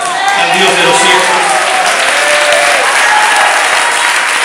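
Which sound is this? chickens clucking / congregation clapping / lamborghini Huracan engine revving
congregation clapping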